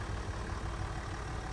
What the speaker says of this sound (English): You can hear the engine purring there, it's a V6 diesel automatic.